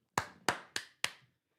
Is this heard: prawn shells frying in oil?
no